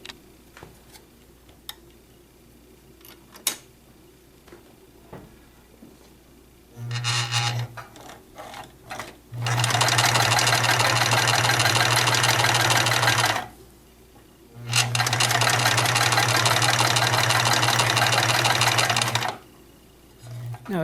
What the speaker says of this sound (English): I will zigzag stitch the two pieces just so I'd attach them together, and they don't move.